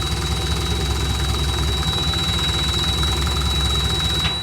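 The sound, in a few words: 454 engine idling in COE truck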